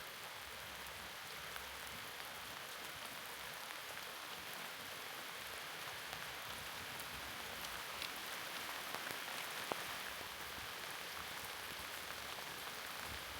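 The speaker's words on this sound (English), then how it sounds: "the rain picked up again" Heavy rain pours steadily outside a log cabin, a dense continuous hiss of drops on surfaces with occasional louder splats, close and unbroken, with no voices.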